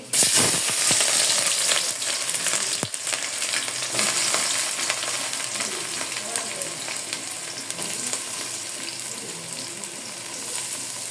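Cinnamon, cloves, cardamom and chopped green chilies crackle in overheated cooking oil, a loud, dense, continuous sizzle close by with a few sharp pops early on, no voices.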